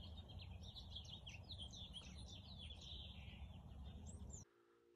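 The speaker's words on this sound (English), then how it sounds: "Birds are beautiful." Several birds sing and chirp outdoors near an anagama wood-fired kiln, repeated bright calls over a steady low roar of the fire, fairly faint, cutting off abruptly at the end.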